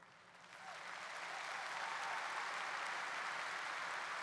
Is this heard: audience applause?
yes